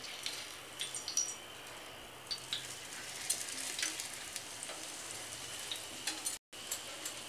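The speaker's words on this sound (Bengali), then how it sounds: "এই পিঠটা ভাজা হোক।" A Kolkata-style egg mughlai paratha fries in hot oil, a soft continuous sizzle with scattered crackles and pops at low volume, heard alone and without any voices.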